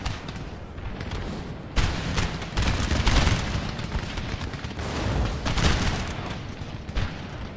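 Musket volleys in the Napoleon Total War strategy game with the Darthmod mod, a dense, sustained crackle of overlapping gunfire that swells in heavier waves, loud and continuous throughout.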